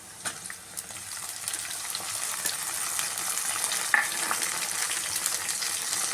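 Onions fry in a pan with a continuous, moderately quiet sizzle and crackle, broken by a few soft stirring taps, with no voices.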